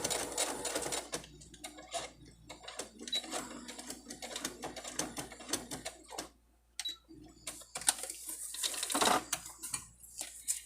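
A sewing machine back stitches a fabric mask in close, rapid mechanical bursts with brief pauses between runs of stitching.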